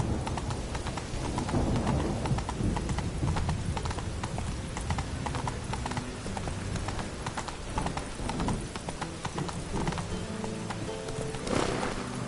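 Roach, the horse from The Witcher 3, runs with loud, continuous pounding hoofbeats at a fast steady rhythm. The hooves stay close and dominant, with a brief swell of extra noise near the end.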